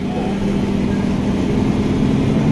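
A Hino 700 truck engine with a low-power fault runs with its turbo, giving a loud, steady, close drone with a sustained tonal hum and no pauses.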